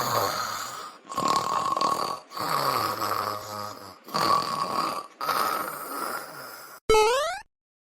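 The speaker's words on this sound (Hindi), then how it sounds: "कैसे खर्राटा लेते हैं।" A man snores while asleep, giving about five long, loud, rasping breaths spaced roughly a second apart, followed by a short rising electronic tone.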